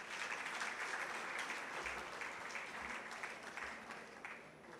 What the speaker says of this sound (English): Please give a big round of applause for Dr.